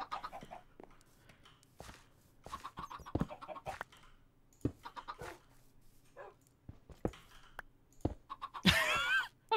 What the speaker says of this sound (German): Huhn im Camp.